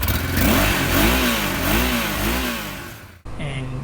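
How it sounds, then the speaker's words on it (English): A motorcycle engine runs after a repaired CDI fault, revving up and down in loud, near surges before briefly cutting out and picking up again. "Wow, the bike has started."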